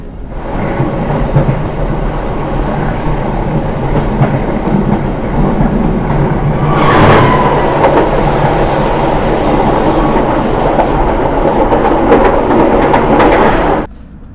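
The Gajayana executive passenger train rolls along the rails in Indonesia, a loud steady rumble with rhythmic wheel clatter and a brief screech midway, heard from inside the carriage until it cuts off sharply near the end.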